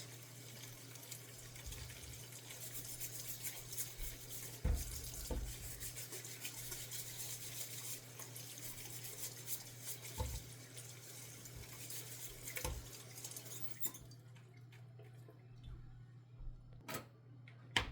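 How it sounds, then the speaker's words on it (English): Potatoes being washed under a running kitchen tap, a steady faint water flow with rubbing and occasional knocks against the sink, ending as the tap shuts off. "So we just need to get our potatoes washed."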